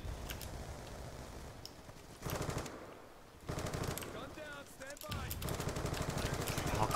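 Rapid automatic hip-fire gunfire in Black Ops 2 rattles in dense bursts with brief gaps between volleys, under a player's excited commentary.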